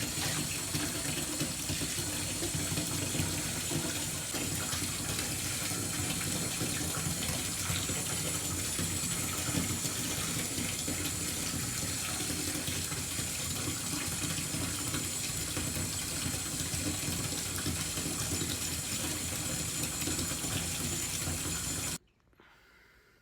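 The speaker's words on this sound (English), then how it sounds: "I'm running some water into the bubble bath real quick" Water gushes steadily from a tap into a bathtub as a bubble bath fills, a continuous loud splashing rush that runs unbroken for over twenty seconds before cutting off abruptly near the end.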